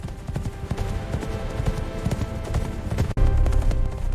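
Horses gallop in an animated fantasy chase, hooves clip-clopping in a rapid, steady rhythm against a dense, loud score of music and effects throughout.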